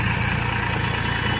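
A Mahindra 265 XP Plus tractor engine labours steadily up a ramp, a loud close rumbling drone with no talking.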